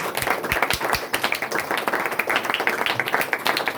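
A church congregation in Ludhiana claps for the pastor during a Sunday meeting, a dense stream of sharp hand claps held at an even, lively level.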